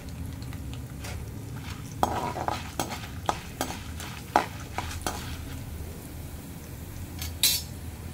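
Chana dal and urad dal frying in a pan, a steady low sizzle under repeated clinks and scrapes of a spoon stirring against the metal, close and moderately loud with no talking.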